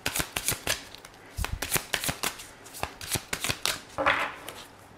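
Tarot cards being shuffled up close, a run of crisp riffling flutters and soft taps in an uneven rhythm, with a brief louder rustle near the end.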